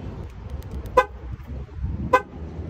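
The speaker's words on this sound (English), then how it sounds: "I guess I have to close the hood to do a remote start" A 2016 RAM 1500 truck gives two short horn toots about a second apart during remote start, over a low engine rumble nearby.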